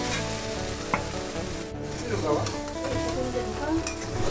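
Potatoes and soybean chunks with spices sizzle and hiss steadily while being stir-fried, with occasional scraping and clinking of a spatula against the pan throughout.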